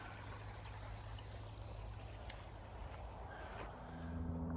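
A short little creek flows steadily through a woodland reserve, a soft continuous babble and trickle of water with a low hum rising near the end.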